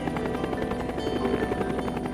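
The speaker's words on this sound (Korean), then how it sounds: "한국은 지형이 험해서 차량과 기차보다는 헬리콥터 수송이 더 적당했다" Helicopter flying in Korean War-era footage, a steady dense rotor chop and engine drone that holds loud and unbroken throughout.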